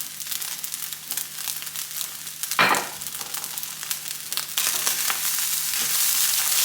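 Fried rice stirred in a hot pan, a steady close sizzle with scraping and crackling bursts, briefly louder near the middle and rising again toward the end.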